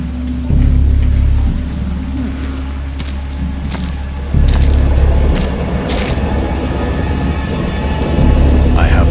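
Deep rumbling rolls in and swells in low waves over a steady rain-like hiss, loud and close throughout.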